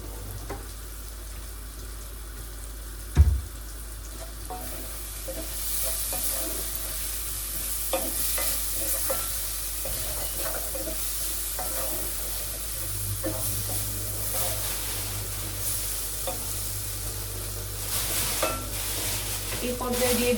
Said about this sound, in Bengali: একটু পাঁচফোড়ন দিব আমি, বেশি না, একদমই হালকা।